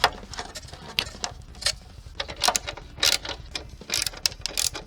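Screws are driven into an air conditioner motor mounting bracket and shroud, giving close, irregular bursts of ratcheting mechanical clicks with short pauses between them.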